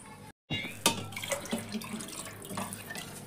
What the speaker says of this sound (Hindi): पानी और ऐड करते हैं।